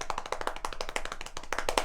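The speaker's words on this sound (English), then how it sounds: "I'm clapping instead of drum roll" Rapid hand clapping standing in for a drum roll, a quick run of sharp, close claps in an uneven rhythm with no talking.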